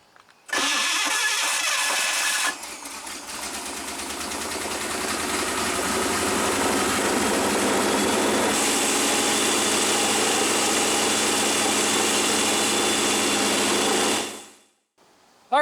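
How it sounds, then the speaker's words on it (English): A jet boat engine cranks, catches and settles into a steady, loud idle that drones on for over ten seconds before cutting off abruptly, with no voices over it. "Let's fire up the engine,"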